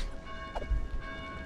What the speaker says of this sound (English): Maybe you can figure out how to silence those blasted bells.